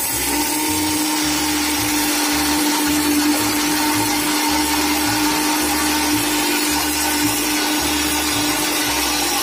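A kitchen mixer grinder whirs loudly and continuously while grinding salt for drumstick leaf powder, its motor drone steady from start to finish with no voices.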